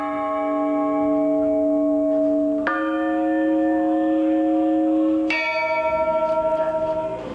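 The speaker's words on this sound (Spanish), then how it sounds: "Las campanas pequeñas son usadas para llamar al colegio y a las faenas comunales." Small church bells at San Pedro de Huancayre ring out in three clear strikes, each leaving a long, shimmering resonance that hangs in the air before the next.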